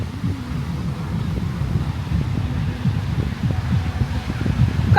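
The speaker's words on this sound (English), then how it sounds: "And it's so windy." Strong wind buffeting the microphone at a rough sea beach in Florida, a steady low roar with gusty swells and faint surf beneath, loudest toward the end.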